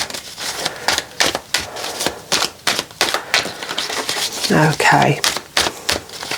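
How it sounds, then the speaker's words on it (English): Tarot cards shuffled by hand in a steady run of crisp, rapid riffling snaps and clicks, close up, with a brief spoken word partway through. "Have another little shuffle"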